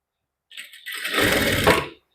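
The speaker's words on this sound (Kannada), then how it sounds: "ಈ ರೀತಿ ಇಲ್ಲಿಂದ ಕರೆಕ್ಟಾಗಿ ಸ್ಟಿಚ್ ಮಾಡ್ಕೊಳ್ಳಿ." Sewing machine stitching piping onto fabric, a short motor whir that starts softly, builds to a steady hum for about a second, then stops, close and alone.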